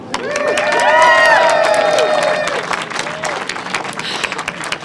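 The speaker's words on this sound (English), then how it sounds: "So can we take a minute to cheer bus priority" A crowd of city and state officials and advocates at a bus lane ribbon cutting claps and cheers, applause swelling to a loud peak then thinning into scattered claps with whoops over it.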